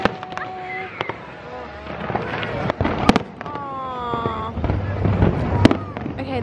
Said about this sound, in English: I wanna watch fireworks.